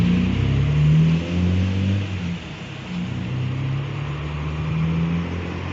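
A Jaguar E-Type at a classic car meet idles and revs, a close, loud, low engine rumble with throaty swells rising and falling in pitch over several seconds, with no talking.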